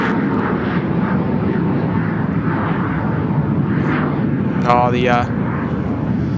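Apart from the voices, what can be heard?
Pilatus PC-24 business jet flying and turning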